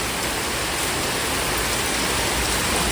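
Heavy rain falling close by outdoors with water running past, a loud, constant hiss of broadband noise that never lets up, with no voices.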